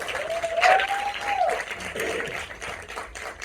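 Film festival theater audience applauding after a director's Q&A, a moderate burst of clapping from a smallish crowd with a cheer or whoop rising over it early, then tapering.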